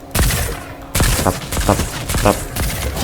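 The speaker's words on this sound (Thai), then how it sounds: "มันยิงช้านั้นไม่ใช่ปืนกลนะเออ มันก็จะยิงช้าหน่อยๆเนี่ยจะยิงประมาณเนี้ย" A slow-firing gun in the Fortnite video game, loud spaced gunshots roughly every half second with metallic reload clatter between shots, close and dominant.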